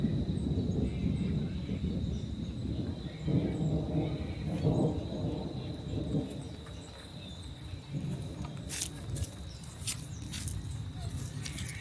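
Low rolling thunder from a summer storm rumbles through a dim, wide outdoor ambience at a creek in Victoria, Australia, with faint insect chirps and a few soft crackles toward the end.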